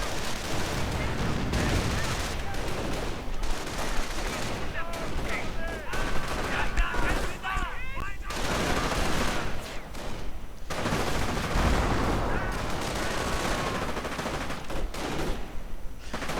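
A WWII strategy video game battle with dense, continuous gunfire and grenade blasts, steady and loud throughout, while a commentator talks over it.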